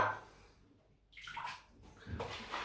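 Water splashes and trickles into shaving lather made with Palmolive cream and a Simpson T3 brush, coming in short close bursts with quiet pauses between them.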